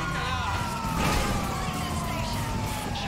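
A police car siren in a video game wails in steady rising and falling tones over a dense layer of engine and background game noise, continuous for the whole stretch.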